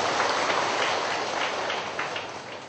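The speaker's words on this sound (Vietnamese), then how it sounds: "Chúng tôi xin vì cho một tràng pháo tay." Applause from an audience at a Buddhist ceremony in Ben Tre, Vietnam, welcoming a visiting venerable monk: a dense, steady wash of clapping that runs throughout and fades slightly toward the end, with no talking over it.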